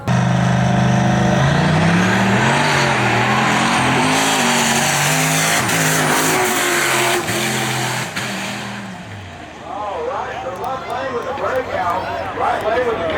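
Fast street cars roar loudly through 1/8 mile drag passes at Street Car Takeover Houston 2020, engines screaming and shifting for about nine seconds before fading, followed by quieter engine noise and a voice talking.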